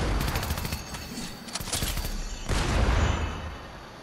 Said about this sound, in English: What is with all these gunshots?